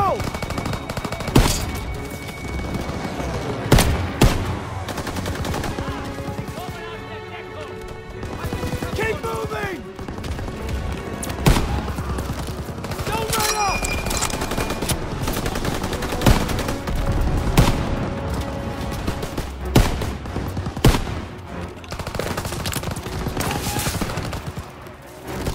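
Bursts of machine-gun fire rattle through a WW2 battle near a barn, sharp volleys recurring throughout amid other gunshots and shouting voices.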